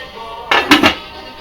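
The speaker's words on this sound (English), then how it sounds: "We're gonna put the cover on." Metal lid set onto a pot of kapusta, a Polish sauerkraut dish, giving a few close, sharp clanks in quick succession within a second, then quiet.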